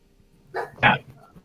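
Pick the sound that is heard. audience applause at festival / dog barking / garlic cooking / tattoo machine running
dog barking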